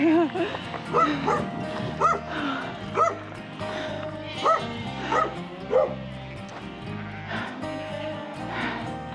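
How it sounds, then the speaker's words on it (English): A dog barks repeatedly in rural Australia near farmland with sheep, a series of yips and bow-wows at moderate distance, heard while cycling outdoors on a gravel road, with some whimpering tones between barks. "A dog barking"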